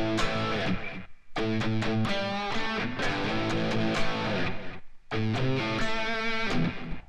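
Distorted electric guitar plays a riff moved to the four chord, sustained power chords and quick repeated picked notes in a driving rock rhythm, loud and close with brief breaks between phrases.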